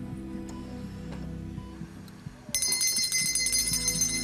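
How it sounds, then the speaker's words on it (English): A bell rings out at about two and a half seconds, its bright ringing tone sustaining to the end over a low steady hum and scattered light taps. "can I have the bell now, please?"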